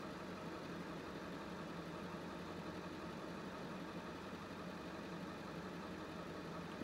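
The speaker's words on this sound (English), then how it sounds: "the locomotive comes to a stop. The engines simmer down to an idle, and the doors unlock." Train locomotive engines idle at a station in a faint, steady low hum and rumble that holds constant throughout, heard alone with no voices.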